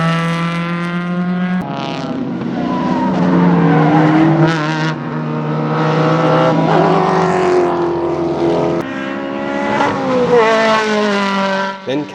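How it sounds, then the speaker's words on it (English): Improved Production race cars, including a Datsun 120 and an RS2000 Escort, at Baskerville circuit, loud engines revving close by with rising and falling pitch through gear changes, several cars passing in sequence. "Sixth and first under 2 litre car was Terry Morling's RS2000 Escort."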